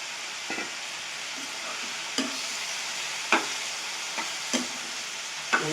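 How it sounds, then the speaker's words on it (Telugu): Tiger prawns from a village pond frying in a pan, a steady close sizzle and hiss with a few sharp spoon or spatula knocks scattered over it, no voices. "ఇలా కొంతసేపు ఫ్రై అవ్వాలి"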